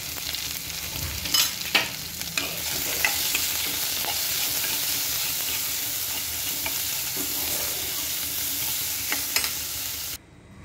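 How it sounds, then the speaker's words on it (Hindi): A potato and tomato curry with spices sautés in a pan, giving a loud, continuous sizzle close by. A spoon stirs and scrapes throughout, the sound cuts off abruptly near the end, and no one talks. "सब्जी को भूनते हुए 2 से 3 मिनट हो गए हैं"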